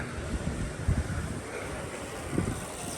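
Gusty wind buffeting an outdoor microphone, a steady rumbling roar with louder low thumps near one second and again near two and a half seconds, no talking.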